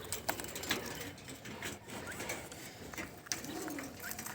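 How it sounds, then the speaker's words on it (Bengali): A Dubai-breed quail gives a short, soft call near the end, faint against a background of low rustling and scattered taps. "এটি দুবাই জাতের কোয়েল পাখি দেখতে খুব সুন্দর"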